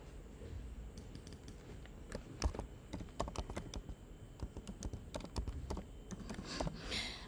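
Steady typing on a computer keyboard while entering text for a website banner design, with rapid close key clicks running throughout.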